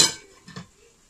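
A lid is set down on a cooking pot of mutton in a home kitchen, giving a brief metallic clink followed by a softer second knock, close and fairly quiet with no talking.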